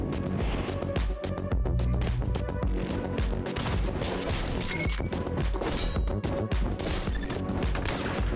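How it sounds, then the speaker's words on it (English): Sniper rifle shots fired in the action game Katana ZERO, sharp cracks and impacts repeating amid dense, loud game music and effects throughout. "they just immediately take a shot at us with a sniper rifle"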